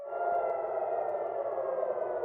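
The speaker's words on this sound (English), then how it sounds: "sirens sounding overnight across Jerusalem" An air raid siren wails steadily overnight across Jerusalem during missile alerts, a sustained, fairly faint tone that holds level without pause.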